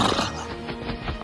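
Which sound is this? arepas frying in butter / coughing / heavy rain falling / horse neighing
horse neighing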